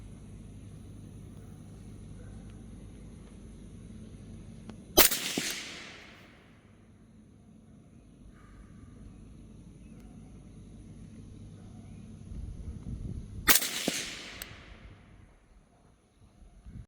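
A Remington 700 bolt-action rifle with a Mark IV HD scope, firing Sierra Match King rounds: two loud, sharp shots about eight seconds apart, each trailing off in a rumbling echo over a quiet outdoor background.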